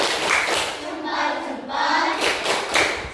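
Children in a classroom perform a rhythmic 'tepuk salut' clap as a group cheer, a close, steady burst of hand claps mixed with young voices chanting along for about three seconds.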